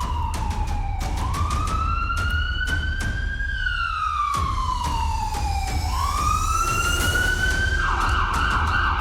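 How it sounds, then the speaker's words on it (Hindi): Warning sirens wail, rising and falling over steady traffic rumble in Lahore after serial blasts, loud and continuous, with several siren tones overlapping. "तो ये सायरन की आवाज़ें आप सुन रहे हैं।"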